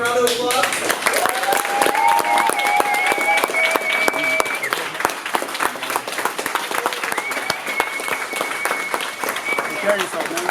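A crowd inside an Apple Store claps and applauds continuously for an employee's last day, dense rapid clapping filling the room, with a few voices and cheers mixed in.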